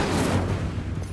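A fire spell, Incendio, cast in Hogwarts Legacy: a brief, dense roaring whoosh with heavy low rumble that fades slightly toward the end, loud and close.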